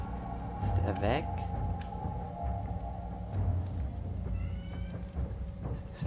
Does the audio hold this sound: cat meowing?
yes